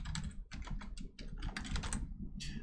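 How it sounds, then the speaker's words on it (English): Computer keyboard being typed on at close range, a quick series of crisp key clicks in uneven bursts, ending in a slightly separate keystroke. "now I'm gonna hit enter"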